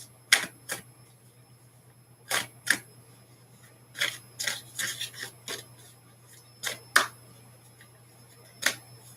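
Cards being shuffled in sharp riffling bursts, spaced irregularly with quiet pauses between, close up and with no talking.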